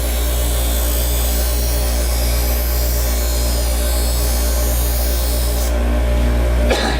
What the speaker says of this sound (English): I'm beveling in both directions consistently